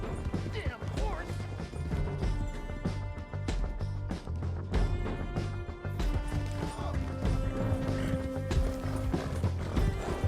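Horse hooves clip-clopping at a gallop in Red Dead Redemption 2, with whinnies and crashing noises over a dense game soundtrack, while voices shout throughout.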